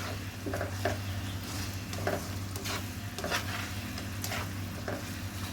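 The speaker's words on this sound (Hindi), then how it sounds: "अब इसमें मैं ये जो चिकन फ्राई किया था ये ऐड करूँगी और इसको मिक्स करूँगी।" Fried chicken being stirred into a thickened sesame chilli sauce in a pan, with soft scraping stirs and a gentle steady sizzle over a low kitchen hum, close and moderately quiet.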